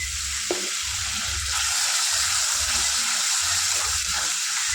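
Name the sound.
spice paste with salt, turmeric, coriander frying in pan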